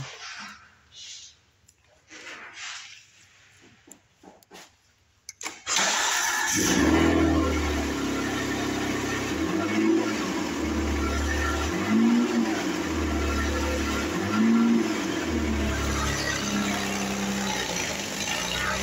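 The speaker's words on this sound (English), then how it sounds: "Let's have a crack in the exhaust manifold so it is a little loud." A 2018 Kia Sedona EX with a cracked exhaust manifold starts after a few quiet seconds of small handling noises, then idles loudly and steadily, its rough exhaust drone pulsing in slow even surges nearby.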